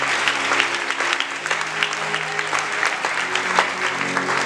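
Worshippers at a church service during Holy Spirit week clap together in sustained, close applause for several seconds, with faint voices mixed into the clapping.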